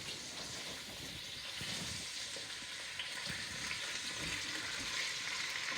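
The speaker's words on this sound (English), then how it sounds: "I'm going to show her how the onions are simmering in the pot" Onions simmer in a pot for Maltese kapponata, giving a steady, close sizzling hiss that runs unbroken throughout, with faint stirring scrapes and no talk.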